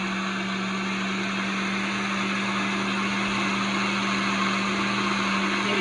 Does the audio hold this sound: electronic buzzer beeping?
no